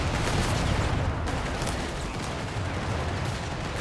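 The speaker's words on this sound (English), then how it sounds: "AT rifles pop on the second squad now as well." Anti-tank rifles and other gunfire in a Company of Heroes 3 2v2 battle, a dense, rumbling wash of overlapping shots and booms that stays steady and fairly distant throughout, with no distinct single reports standing out.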